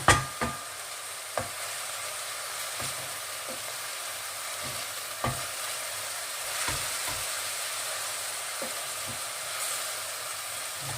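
Pork and onions frying quietly in a pan, a soft steady sizzle broken by sharp scrapes and clacks from a utensil stirring every second or so.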